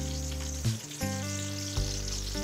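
Ginger garlic paste fries in hot oil for a Bengali camel meat kala bhuna, a close, steady sizzle broken by a few brief stirring clatters.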